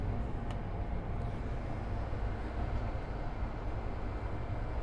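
Northern Airlines Cargo Boeing 767-300 taxiing at Miami airport, a steady low jet rumble and broadband roar holding at constant loudness, distant and unbroken throughout.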